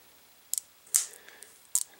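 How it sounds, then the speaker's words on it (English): Three quiet, sharp snips from scissors or diagonal cutters trimming a candle wick, with short isolated clicks spaced well apart and nothing else around them. "I'm going to take my scissors or my diagonal cutters, and I'm just going to cut this wick down."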